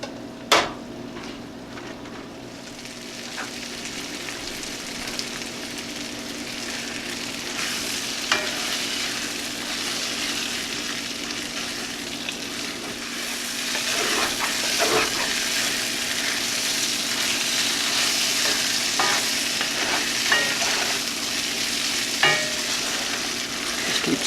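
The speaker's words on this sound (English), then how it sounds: "We'll be constantly stirring this up, flipping it over." Ground rabbit meat frying in a pan for a spicy dish, a loud continuous sizzle that builds over time, with repeated spatula scrapes and taps as the meat is stirred and flipped.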